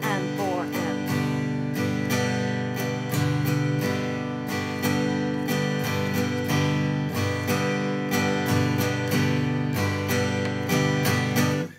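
Acoustic guitar chords strummed in a pattern with the down strum on beat three skipped; steady, rhythmic, close and loud for about twelve seconds, with no voice.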